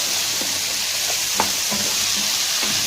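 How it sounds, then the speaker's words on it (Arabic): Diced potatoes with onion sautéing in a pan for a sausage and potato casserole, a steady close sizzle with a few soft spatula scrapes and taps scattered through it, no talking. "هنفضل نشوح فيها كده علشان تدي طعم للبطاطس"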